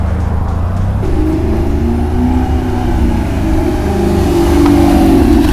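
A rotary-engine car with a manual gearbox and open exhaust revs loudly and close at a JDM and supercar meet, its rising, buzzing engine note climbing and holding over a few seconds with no talk.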